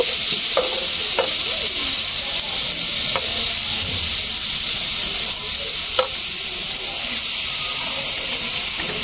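Ghee sizzles and hisses steadily while a traditional village breakfast cooks, a constant frying crackle with occasional sharper pops and scrapes of stirring throughout.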